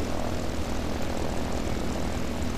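An airplane engine drones steadily during a flight of slips and knife-edge maneuvers, a loud continuous broadband roar with no breaks and no talk.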